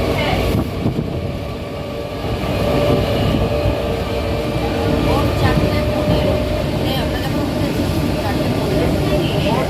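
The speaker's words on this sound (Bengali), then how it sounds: "উঠতেই ট্রেন ছেড়ে দিয়েছে" An early-morning train rolls along steadily, a continuous rumbling rattle of wheels and carriages heard from on board, fairly loud, with faint voices now and then underneath.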